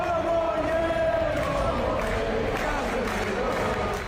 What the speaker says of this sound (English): The crowd sings his name louder than ever